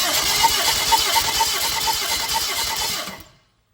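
A Daihatsu Applause engine cranks on the starter during a hot compression test, a steady rhythmic chug-chug of turning over for about three seconds before cutting off abruptly to silence.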